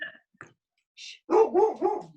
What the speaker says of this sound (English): You got your dog barking.